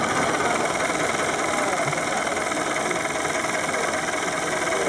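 A Pac-Man gear train demonstration rig ramps up toward 1,000 RPM, making a steady, dense mechanical whir and hum that holds throughout, with voices faint in the background.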